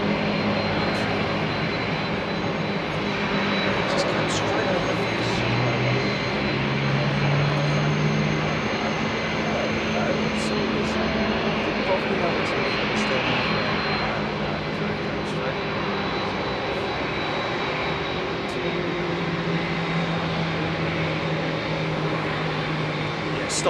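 Aircraft flying past at Heathrow Airport, a continuous engine roar that swells and fades over the scene, with people talking now and then underneath.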